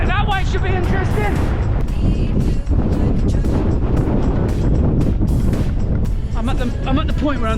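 Strong wind buffeting the microphone throughout a coastal trail run near a beach, a loud, constant roar and rumble with a voice speaking over it.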